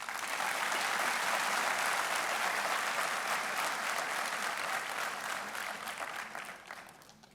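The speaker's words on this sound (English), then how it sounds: "Please loudly clap it." Audience applause at the valedictory session of a health conference, a dense, loud round of clapping that holds steady for several seconds before slowly tapering off at the end.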